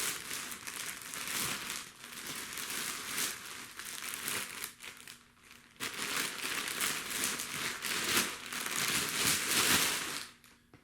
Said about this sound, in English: Once you rip a hole in the bag, it fills with air and expands.